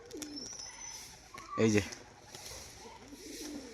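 A male pigeon gives a short, close, throaty burst of cooing, the bird standing among pigeons kept for flying contests, while someone talks over the faint sounds of other birds.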